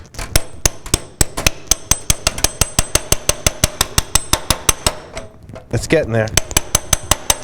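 A hammer taps steadily on a metal PC case while someone holds the case, about twenty-five sharp, evenly spaced metallic knocks, loud and close. The tapping pauses briefly for a few spoken words, then resumes.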